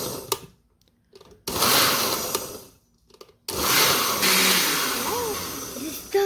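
A kitchen blender whirs loudly while mixing a banana smoothie, running in separate bursts broken by brief silent pauses.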